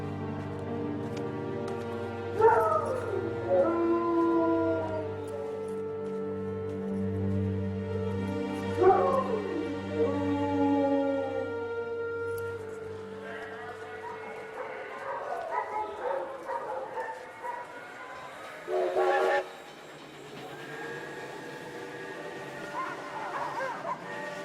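Sled dogs whimpering, yipping and howling in drawn-out, wavering cries, with a few sharper barks near the end, moderately close and carrying on for the whole stretch.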